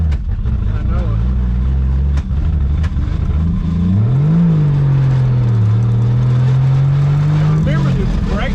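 A 1959 Edsel Ranger engine revs under throttle, its pitch climbing, dipping and holding in a loud, close drone, with people talking over it.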